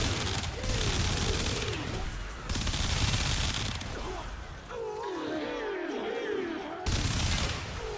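Shotgun blasts in the video game Warframe, with dense, rough bursts of gunfire layered under wavering in-game effects and a steady wash of action noise throughout.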